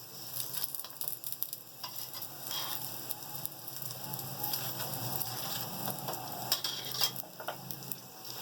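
Chicken aloo paratha frying in ghee on a flat pan, a steady close sizzle with crackling pops and occasional light scrapes, heard alone without voices.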